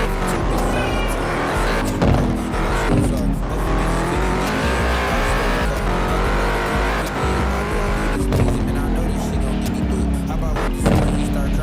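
Dodge SRT Demon 170 Charger drifting in a racing video game, a loud continuous engine roar with screeching tire squeal and skidding throughout, game music and effects mixed in densely.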